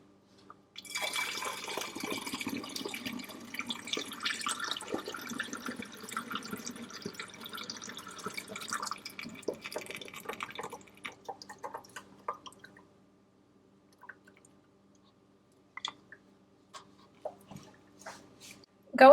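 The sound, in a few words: water kefir being poured through a strainer into a funnel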